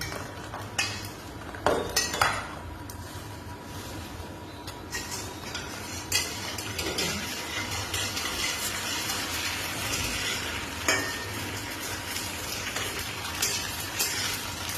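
Food frying in plenty of oil in a pan, a steady close hiss and sizzle with occasional clinks of a utensil against the pan, no talk.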